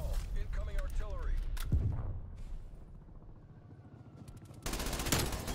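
Incoming artillery in a first-person shooter video game, heavy booming blasts and rattling gunfire at close range, with a player talking over the noise and a loud burst of explosions near the end.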